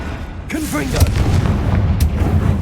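In Hogwarts Legacy, the Confringo explosive spell goes off in loud, booming blasts, one after another, while a voice calls out the spell.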